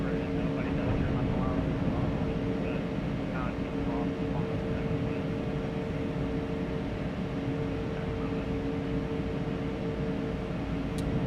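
An Airbus A220's engines howl steadily in a flight simulator game, a continuous whine with sustained tones heard under talking voices.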